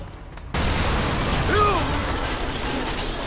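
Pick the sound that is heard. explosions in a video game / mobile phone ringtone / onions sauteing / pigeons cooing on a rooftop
explosions in a video game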